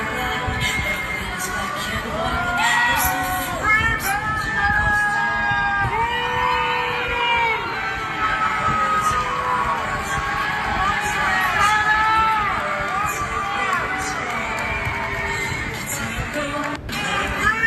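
A large crowd at a Eurovision-style song contest booing a performer, a dense sustained roar of jeers, yells and whistles that runs the whole way through.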